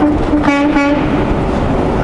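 Two short blasts of a train air horn sound close by over a rumbling, steady engine noise.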